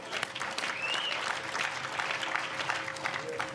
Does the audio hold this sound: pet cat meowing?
no